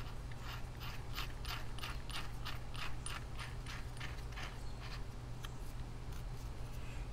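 Ratchet clicking rapidly as it screws down a fitting while replacing the power steering pump and hoses on a Foxbody Mustang, a quiet, close, steady run of mechanical ticks.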